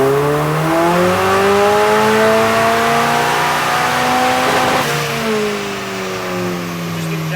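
A car engine roars at full throttle on a dyno, pitch climbing steadily before dropping off after about five seconds, loud and close with no talk.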